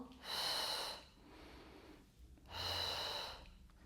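Slow, deep breaths in and out during a standing pregnancy hip exercise, two long airy exhalations close to the microphone with a quiet pause between them and no talking.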